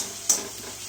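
Prawns frying in oil in a pan being stirred over low gas, a soft steady sizzle with one quick scrape or clink of the utensil near the start, close and fairly quiet.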